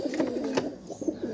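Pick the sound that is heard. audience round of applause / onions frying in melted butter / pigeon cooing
pigeon cooing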